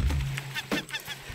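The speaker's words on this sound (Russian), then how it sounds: "Курица летающая." A chicken flapping through the air in an ocean-island building video game gives a handful of short, honking squawks, close and moderately loud, spaced irregularly over a low steady background hum with no talking.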